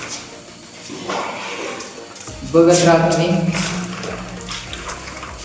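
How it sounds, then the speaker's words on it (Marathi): Water is sprayed over chili seedlings, starting as a soft hiss and then turning into a louder, steady rush that continues to the end while someone speaks over it. "आता रोपावरती पाणी मारत आहे कारण ती वाळून जाईल"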